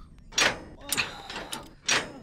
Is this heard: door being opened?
yes